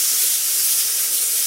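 A steak sizzling in a cast iron pan just after being flipped, with a steady, loud, hissing fry that runs unbroken and close for the whole moment.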